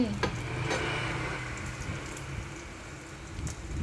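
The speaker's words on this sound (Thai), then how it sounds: "เสร็จแล้วเรามาเตรียมทอดกันเลยค่ะ ใช้น้ำมันเล็กน้อย ใช้น้ำมันลำข้าวนะคะ" Rice spring rolls frying in a small amount of rice bran oil, a steady soft sizzle and crackle with occasional sharper pops, fairly quiet and alone throughout.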